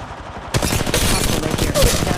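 Rapid automatic gunfire in the mobile battle royale Apex Legends Mobile, dense bursts of shots that start abruptly and carry on loudly with little pause, a brief faint voice underneath.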